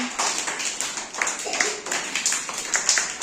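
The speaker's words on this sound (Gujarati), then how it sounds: "સરસ મજાની તાળી પાડી દો." Children clap their hands together in a classroom activity, a quick run of sharp, close claps at a steady, uneven rhythm with faint voices in the background.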